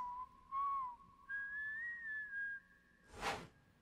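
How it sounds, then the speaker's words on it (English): A clear whistled melody with sustained, gliding tones over a few seconds, ending in a brief burst of noise; no talking. "I thought you were whistling that at first."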